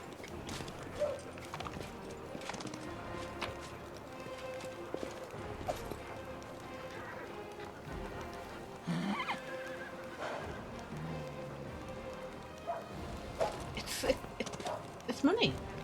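A horse in the fantasy video game Pathfinder: Wrath of the Righteous clip-clops its hooves and gives several loud neighs and whinnies, mixed with game sounds while a person talks over it.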